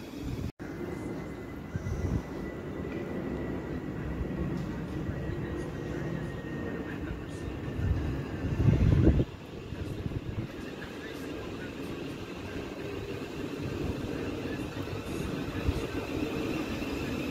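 A Class 700 electric train passing through Bickley station, a low steady rumble with a brief louder surge midway, heard from the platform with people talking nearby.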